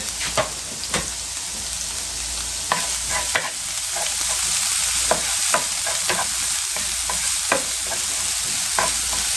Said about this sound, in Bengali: তেলটি গরম হওয়ার পর আমি দিয়ে দিচ্ছি পেঁয়াজ আর মরিচ কুচি।